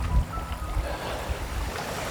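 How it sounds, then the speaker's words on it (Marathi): A rain-swollen river in the Konkan countryside rushing past, a continuous loud low rumble and wash of flowing water close by, with no talking. "हे बघा, नदी कशी वाहते बघा."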